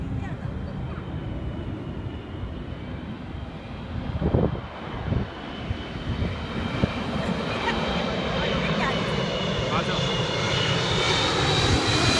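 A large airplane passes near Naha airport in Okinawa, its engine drone a steady, broad roar that swells slowly over the whole stretch, close and loud with faint wind and brief knocks partway through.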